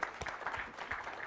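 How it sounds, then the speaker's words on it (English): Brief, fairly quiet applause from an audience at an innovation and entrepreneurship summit, a short patter of clapping with no voices over it. "A big round of applause for him"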